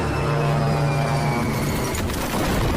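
A loud, steady military aircraft engine drone with a humming, propeller-like tone, sustained throughout with no voices.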